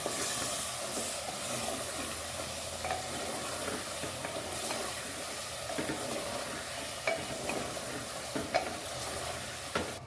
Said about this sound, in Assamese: অকণমান ইয়াতে ভকভকীয়া উতলীয়া গৰম পানী দিছোঁ